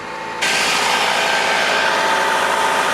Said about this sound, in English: Engine's rolling.